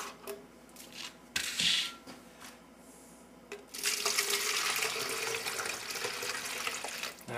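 Water poured into a homemade yellow jacket trap with sugar: a few clunks and a brief splash first, then a steady pouring rush that runs to the end.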